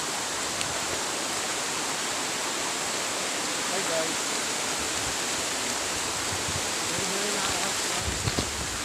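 Waterfall at Maharas Falls after heavy rain, a steady broadband rush of falling water that fills the scene evenly, loud and continuous with no clear speech over it.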